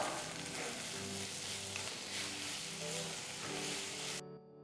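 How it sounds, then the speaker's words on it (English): Sliced shallots (pearl onions) sautéing in a pan toward golden brown give off a steady, even sizzle with faint tonal background sounds; the frying noise cuts off abruptly near the end. "For this recipe I've taken about 20 to 25 pearl onions, that is shallots, that have been sliced. Saute till you get a nice golden brown color."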